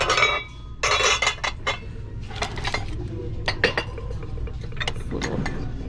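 Small art glass dishes, Pyrex and Corningware clink and chink as they are handled up close, giving sharp bright knocks and rattles in irregular bursts with quieter shuffling between.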